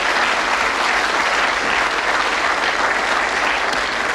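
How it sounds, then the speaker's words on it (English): A television game show studio audience claps in a thick, even wash of applause, loud and unbroken from start to finish, with no voices on top. "Give him a nice round of applause."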